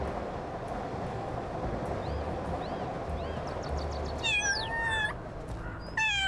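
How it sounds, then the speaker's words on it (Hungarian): A cat meows several times in the video game Little Kitty, Big City, the short tonal calls rising over a steady background hum, clearest as a couple of louder meows near the end. "Tudunk nyávogni."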